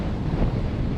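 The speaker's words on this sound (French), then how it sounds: "21 nœuds. Ça souffle frais." Strong 21-knot wind roars across a sailboat at sea, a dense, steady rushing buffet with heavy low rumble and microphone wind noise, mixed with the wash of waves, continuous and close.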